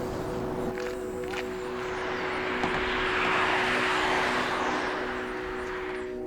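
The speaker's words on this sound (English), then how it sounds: "Tons of traffic here" Steady roar of heavy traffic while driving across a bridge near Lisbon, a continuous broad rushing noise that swells in the middle, with a faint tonal hum underneath.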